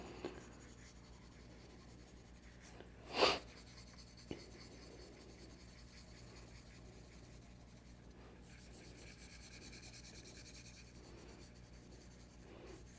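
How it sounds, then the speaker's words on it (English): Pencil lines being erased with an eraser across hand-lettered artwork after a faux watercolor technique: a soft, steady rubbing and scrubbing continues close up and quietly throughout, with one brief sharper tap early on. "let's go ahead and just erase all these guys while we're down here"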